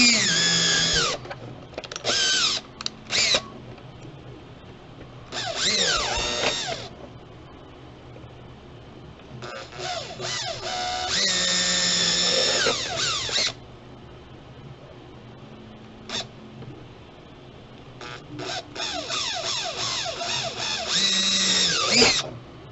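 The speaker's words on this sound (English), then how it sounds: "I'm going to take a drill. I'm going to drill a hole at each corner." Power drill boring holes with a 5 mm bit through an NES front-loader console case, running in several separate whining bursts of a second or two each, close and fairly loud, with quiet gaps between them.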